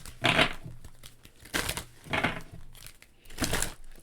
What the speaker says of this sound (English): I'm going to do a little ASMR bit here of just shuffling the cards.